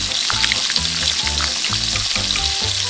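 Miniature clam chowder ingredients with pepper, dried coriander and cornstarch stirred in a tiny pot, a close, loud sizzle and crackle with rhythmic scraping strokes throughout.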